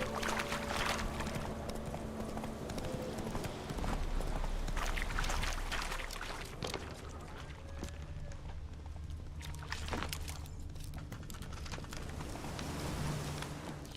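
Roach, the horse in The Witcher 3, galloping with quick rhythmic hoof clops over a rushing, rain-like wash of ambient game sound, loud and continuous, with a few fainter layered effects.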